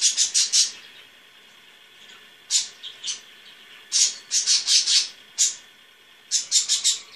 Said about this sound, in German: Und meine Vögel nerven.